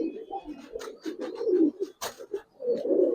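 Giribaz pigeons cooing in a breeder's collection, several soft throaty coos in quick succession, close and clear with no talk over them.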